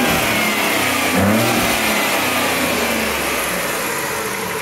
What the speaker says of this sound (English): this is an excellent engine. It's responsive, it sounds really good.